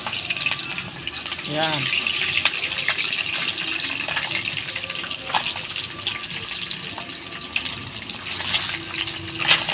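Liquid spatters and sizzles in a pan while cooking, a steady crackling hiss with scattered pops throughout, under intermittent nearby talking.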